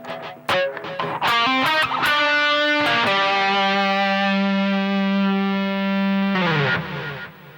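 An electric guitar plays a minor-scale lick through effects with distortion and echo: a few quick picked notes, then a long sustained bend-like note ringing out loud and alone before fading.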